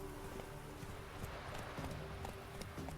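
Galloping horse hooves in The Witcher 3, a steady rapid clip-clop running continuously at moderate loudness over a background of ambient game noise.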